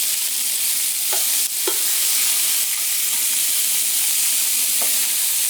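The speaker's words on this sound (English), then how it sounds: "You want a good heavy pan because we want to brown this on all sides." Pork browns in a good heavy pan, giving a loud, continuous sizzle that stays steady throughout, with a few brief sharper crackles and pops rising out of it and no voices.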